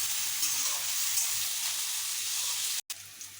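Chopped carrots and beans fry in a pan for poha pulao, a continuous close hiss and sizzle with a brief cut near the end, no voices.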